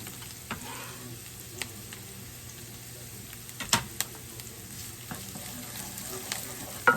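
Onions and fresh ginger fry in a pan for a vegetable korma, a faint steady sizzle with a few clinks and stirring knocks near the end.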